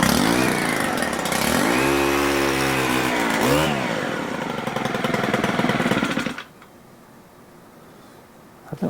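A Stihl multi tool's small two-stroke engine runs loud and close, its pitch rising and sagging as it revs, then cuts out abruptly into near silence.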